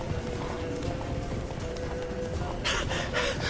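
Roach the horse's hooves clip-clop at a gallop in The Witcher 3, a steady quiet rhythmic beat under game ambience, ending with a louder brighter burst of sound.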